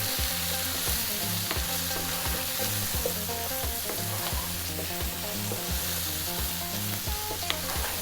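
Coriander, chilli and turmeric powders frying in a pan for a mushroom potato methi curry, a steady close sizzle under a tonal musical backing, with soft stirring scrapes.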